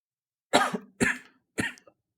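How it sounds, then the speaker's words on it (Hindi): Three short coughs in a row, evenly spaced about half a second apart, close and fairly strong, with silence between them. "फिर खांसी।"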